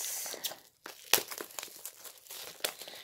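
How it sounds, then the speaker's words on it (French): Plastic shrink-wrap being peeled and crinkled off a Wandering Moon tarot deck, close and quiet, with irregular crackles, a sharp tear in the middle and brief pauses between rustles. "Attendez, je vais enlever le plastique."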